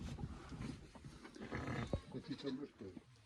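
A sheep bleats once, close and sharp, during a night check of the flock, amid soft murmuring voices and rustling nearby.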